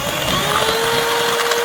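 An electric hand beater whirs steadily and loudly while whipping double cream with sugar for an Eid dessert, a continuous motor drone with no pauses.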